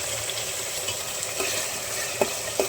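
Spices with asafoetida crackle in hot oil in a pan, a steady soft sizzle with a couple of sharp pops and light stirring scrapes near the end.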